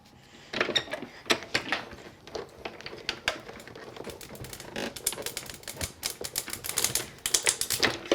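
Thick card is cranked through a manual embossing machine with a raspberry adapter plate, producing a close series of rapid clicking, ratcheting knocks in uneven bursts that grow denser toward the end.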